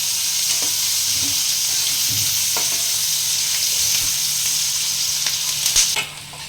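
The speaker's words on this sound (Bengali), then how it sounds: "বেশ লাল করে ভাজতে হবে হ্যাঁ, লাল করে ভাজতে হবে ঝোল বানাবো তো হ্যাঁ" Chopped onions fry in hot oil as the base for a Bengali rui fish curry with potatoes, giving a loud, continuous sizzle close by, broken by a few soft stirring scrapes and no talk.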